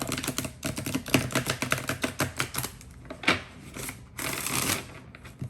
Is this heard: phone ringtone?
no